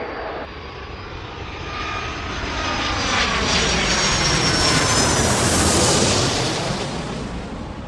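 A jet airliner takes off in the Airport Madness game, its engine roar building steadily to a loud, broad peak and then easing slightly as it passes.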